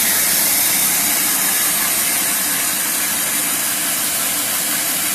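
Chocolate conche machine running with a loud, steady mechanical hiss and whir that holds constant throughout, close and unbroken.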